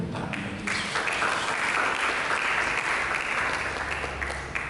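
A church congregation claps together in sustained, dense applause that stays steady and loud throughout, with no voices rising above it.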